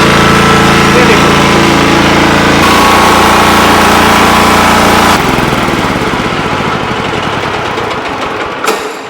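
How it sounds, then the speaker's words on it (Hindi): A small diesel engine on a mini maize harvester runs loud and close with a steady, chattering drone that shifts pitch a few times before tapering slightly at the end. "ये हमने डीजल इंजन लगाया जी"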